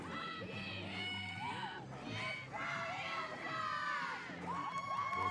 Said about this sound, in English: it's great to hear the crowd too supporting all four of the archers in this gold medal match